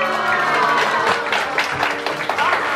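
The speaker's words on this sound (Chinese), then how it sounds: "感谢我们的 Leo， 掌声谢谢他" An audience at a parent-child family event in Tainan claps after a magic trick, a dense wash of applause with crowd murmur running throughout.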